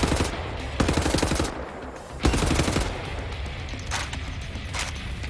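Machine gun fire in the video game Wolfenstein: The New Order rattles in two loud, rapid bursts, then fainter scattered shots over a constant background of game noise.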